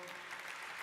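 Sustained, dense applause from an audience honouring company leaders at the stock listing ceremony of Eureka Forbes Limited, a continuous wash of many hands clapping together with no voices over it.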